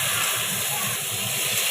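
Papaya, banana and potato pieces with salt, turmeric and spice paste fry in a pan, a steady loud sizzling hiss running without pause throughout, close up.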